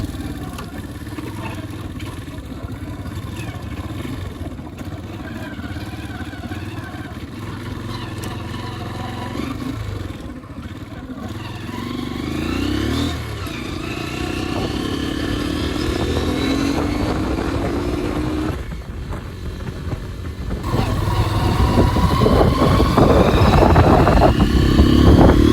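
A Hero Karizma R motorcycle engine running and revving while being ridden, a steady loud drone with rising and falling pitch as it accelerates through the gears, growing louder toward the end.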